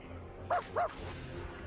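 A puppy gives two quick, high barks in a row, short and fairly faint, over a quiet low background hum.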